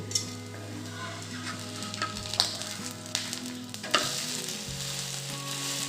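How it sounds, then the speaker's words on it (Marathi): Sweet potato feni roasts in ghee in a pan over a low flame, giving a steady close sizzle broken by a few sharp scraping clicks as it is stirred and turned. "कमी गॅसवर आपण आता हे भाजून घेऊ"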